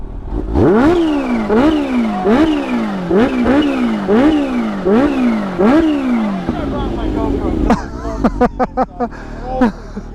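A supercharged 2015 Kawasaki Ninja H2 sport motorcycle engine revs up and down in repeated rising bursts with a chirping whine, then settles into loud, sharp exhaust pops and crackles nearby.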